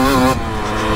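A motocross bike engine revs hard for a jump, a loud, close buzzing roar that holds high and then drops in pitch as the throttle shifts, with no speech.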